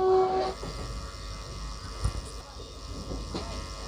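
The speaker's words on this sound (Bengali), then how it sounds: "ট্রেনটা এখন ছাড়লো, তো পরের স্টপেজ হচ্ছে আমাদের টাটানগর।" Azad Hind Express pulling out of Kharagpur station on the Howrah–Pune route, a steady low rumble of rolling rail cars with a brief sharper clank midway and a continuous background hum throughout.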